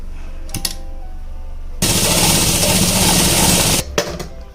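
A sewing machine runs a straight seam on a kurti sleeve, a loud, close, steady mechanical whirr that lasts about two seconds. Brief handling clicks come just before and after it.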